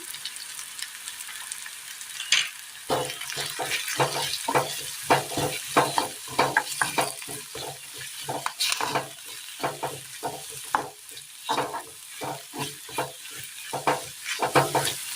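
Chili powder fries and sizzles in a pan while a spoon stirs and scrapes repeatedly in a steady, uneven rhythm, close and fairly loud.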